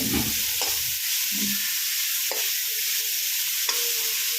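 Grated carrots frying in a pan, a steady loud sizzle with a few stirring scrapes and knocks, heard close up with no voices.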